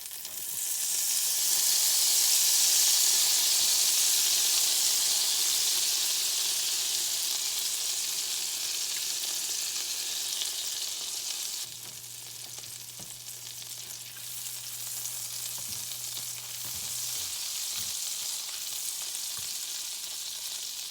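Garlic sizzling in butter in a pan for a white Alfredo sauce, a bright continuous frying hiss that starts loud and gradually softens, with a low steady hum joining partway through.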